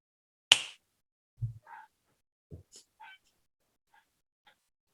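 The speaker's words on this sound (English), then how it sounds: "when I snap my fingers" A single sharp finger snap rings out close by, followed by a few soft, scattered murmurs and small sounds.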